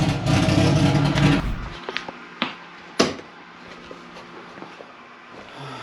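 A Haltech-equipped drag car engine warming up, starting with a loud, dense roar for the first second and a half before dropping to a quieter idle broken by a few sharp clicks and pops.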